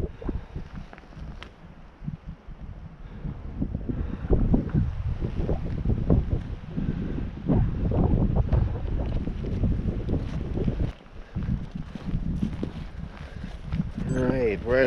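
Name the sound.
wind blowing on a mountain trail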